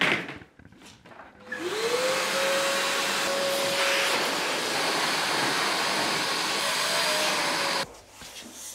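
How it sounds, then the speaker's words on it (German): A vacuum cleaner runs steadily in a new office being prepared for painting, a loud continuous broadband roar with a rising motor whine that starts up, holds for several seconds and cuts off near the end. "Erstmal schön staubsaugen."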